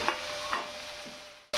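Fried paneer cubes being stirred in a pan while making chilli paneer, with a steady soft sizzle and scraping stir strokes, a couple of louder scrapes, then a brief near-silence before the sizzle returns.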